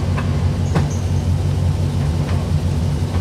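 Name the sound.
Mazda Miata clutch chatter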